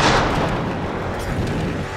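Incendiary grenade going off in Battlefield Hardline on Xbox One: a loud, dense roaring burst that stays close and sustained, a continuous rumbling blaze with no talk over it.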